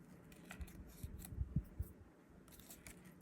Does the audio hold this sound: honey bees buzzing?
no